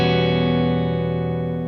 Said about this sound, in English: as I scoot this over, I'm basically bringing in that reverb sound